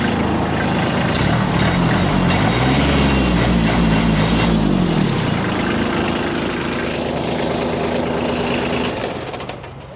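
A compact tractor's diesel engine runs loud and close at a steady idle, briefly revving up and settling, then fading away at the end.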